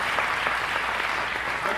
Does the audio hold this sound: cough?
no